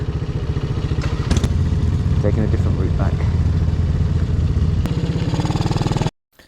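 A motorcycle rides home from the Wild South West Rally in Cornwall, its engine a steady low rumble with wind and road clatter, while a rider speaks briefly over it before the sound cuts off abruptly near the end.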